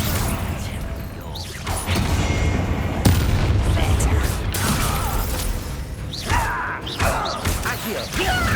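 Confringo fire spell blasts in the Hogwarts Legacy video game, a barrage of repeated booms, crackling impacts and whooshing effects over game music and combat noise, with a voice shouting in between.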